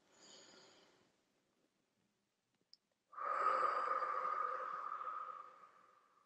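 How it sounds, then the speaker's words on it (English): Two slow, soft breaths in a quiet meditation setting: a faint inhale fading out, a pause, then a longer, fuller airy exhale drawn out over several seconds. "If you can breathe with me."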